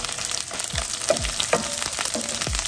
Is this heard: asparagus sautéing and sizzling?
yes